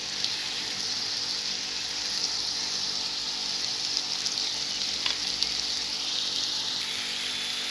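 Sweet potatoes caramelizing in butter and sugar in a pan, giving a steady, close sizzle and frying hiss that runs without a break, with no talking.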